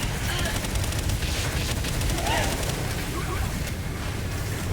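Dense, continuous gunfire in a Palworld boss raid, rapid overlapping shots forming a loud, unbroken barrage of game combat sound for the whole stretch.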